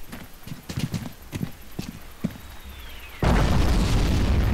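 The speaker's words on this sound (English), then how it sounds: "And the explosion will be quite something to behold." A giant mortar blast in a video game erupts as a sudden, loud, sustained roar that fills the end. It follows a series of hollow, hoof-like thuds.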